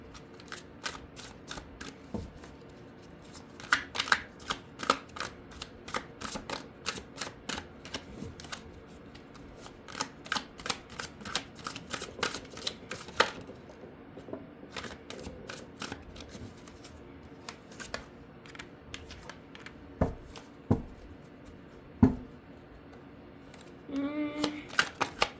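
Thick tarot cards shuffled by hand at close range, a long run of rapid crisp slaps and riffles with irregular pauses and quieter handling in between, no talking.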